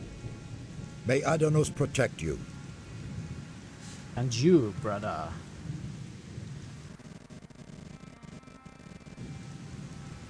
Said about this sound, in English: Sorry about the rain sound glitch.